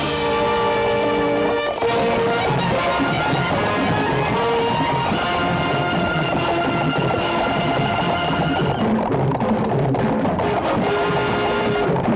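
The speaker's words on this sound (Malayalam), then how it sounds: "അടുത്ത 10 നിമിഷത്തിനകം ട്രെയിൻ ഭഗവതിപുരം സ്റ്റേഷനിൽ." A train arriving at Bhagavathipuram station rumbles steadily close by, with sustained horn or whistle tones ringing over the continuous mechanical roar; no voices.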